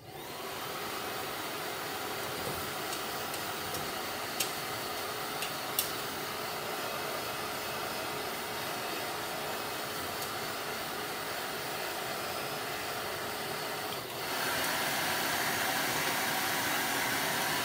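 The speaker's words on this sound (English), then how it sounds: "I'm just gonna hit it with the blow dryer" A blow dryer roars steadily at close range, drying chalk paint on a small metal bucket, its airflow shifting in tone near the end with a couple of faint clicks.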